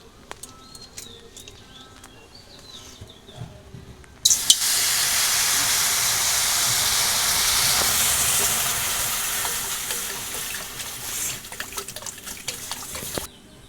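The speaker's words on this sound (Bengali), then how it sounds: "আমি এবার ডালের মধ্যে জলটা ঢেলে দেবো" Water poured into fried mung lentils in a hot pan, a sudden loud hiss and sizzle that holds steady for about nine seconds and then cuts off, close up.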